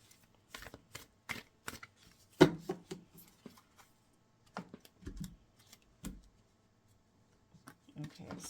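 Tarot cards being shuffled close by, with scattered crisp flicks and slaps in short irregular bursts, alongside quiet talking.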